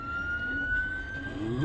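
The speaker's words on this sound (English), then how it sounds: "Pardon the sirens in the back." An emergency vehicle siren wails steadily in the distance, a thin sustained tone over low traffic rumble, with no talking.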